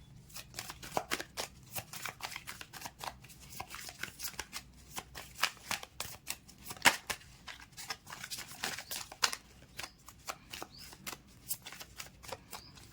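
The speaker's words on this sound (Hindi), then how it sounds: "stay positive till I shuffle the cards" Tarot cards being shuffled by hand in quick, crisp riffles and slaps that repeat steadily and close for more than twelve seconds, with no talking.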